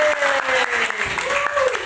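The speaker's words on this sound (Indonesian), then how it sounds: "berikan tepuk" Students in a classroom break into brief, rapid clapping, a short patter of hands heard close while a voice speaks over it.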